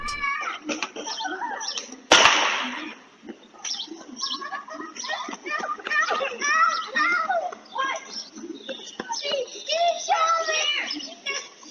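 Kids playing outdoors on a residential street on a Saturday afternoon, their voices and shouts overlapping in a continuous lively chatter, with birds chirping in the background and one sharp bang early on.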